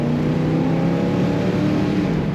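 A 1972 Buick Skylark GS convertible pulls hard under kickdown, its engine a loud, steady, close roar that holds without a break for a couple of seconds.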